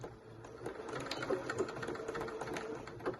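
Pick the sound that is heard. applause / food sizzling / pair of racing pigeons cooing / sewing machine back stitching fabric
sewing machine back stitching fabric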